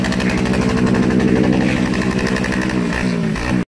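Loud, close motorcycle engines rev hard and continuously at a World Motorcycle Day bikers' gathering, a dense buzzing roar that holds steady before cutting off abruptly at the end.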